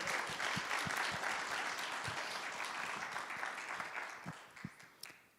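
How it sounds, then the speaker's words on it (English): An audience applauds at a guide dog graduation ceremony, with steady clapping that gradually thins and fades out, leaving a few scattered final claps. "Can we give her a round of applause?"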